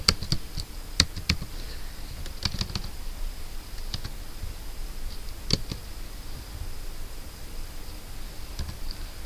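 Sparse clicks of a computer keyboard while entering Cisco port security commands, scattered single taps and a few quick runs, close but light over steady background noise.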